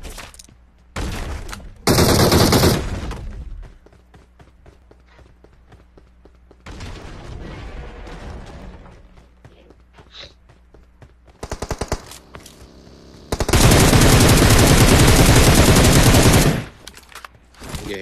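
M4 rifle fire in PUBG Mobile comes in several loud automatic bursts separated by quieter gaps, with a long sustained volley near the end and scattered single shots and thumps between.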